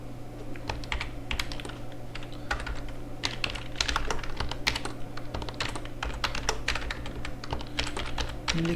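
Steady, rapid typing on a computer keyboard during UNIX shell programming, with dense clicking keystrokes continuing throughout over a low background hum, no voices.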